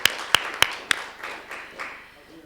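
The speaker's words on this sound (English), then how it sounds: "So another clap" Brief audience clapping at a council meeting, a few sharp distinct claps at the start followed by softer, fading scattered claps over a couple of seconds in a quiet room.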